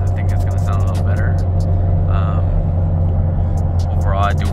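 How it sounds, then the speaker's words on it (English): A turbocharged car with about 130,000 miles drones with a steady, loud low engine rumble from inside while driving, and a voice speaks briefly over it. "I don't know how well you can hear this car, but yeah, sounds good."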